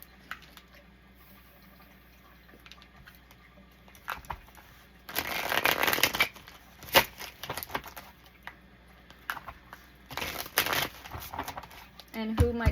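A thick deck of divination cards is shuffled close up, with two bursts of riffling and flicking cards separated by quieter taps and handling noise.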